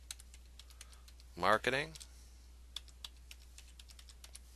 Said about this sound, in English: I'm going to press Enter on the keyboard.